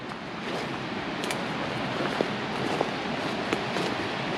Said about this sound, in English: you can probably hear the river, or the brook, getting louder and louder